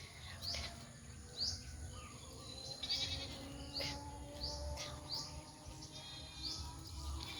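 Goats bleat while being herded outdoors, a series of short, separate bleats from several animals at a moderate distance, with birds chirping faintly behind them.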